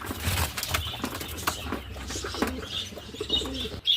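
Racing pigeons coo softly at close range with bursts of wing flapping, set against a busy outdoor background, with no talking.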